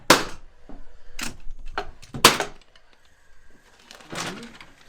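Sharp pneumatic nail gun shots fastening a window jamb during window installation on a custom home, five or six crisp bangs at irregular intervals, separated by quiet gaps with faint handling noise.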